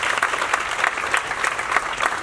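Audience applause at a stage play performance in a theatre, a steady dense crowd of clapping hands sustained for the whole stretch with rhythmic swells, fairly loud and close, with no talking over it.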